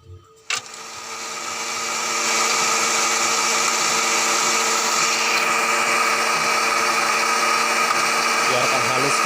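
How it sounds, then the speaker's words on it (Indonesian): A kitchen blender grinds shallots, garlic and candlenuts, starting with a click and then spinning up into a loud, steady whirring drone that holds on without pause. "yang pertama saya mau blender adalah bawang merah, bawang putih, dan juga ada kemiri ya."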